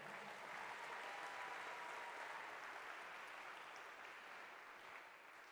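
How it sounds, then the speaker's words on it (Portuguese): An audience in a Harvard CS50 lecture hall claps together in sustained, even applause that stays steady for several seconds and then begins to taper off, heard from a distance. "Salva de palmas aqui."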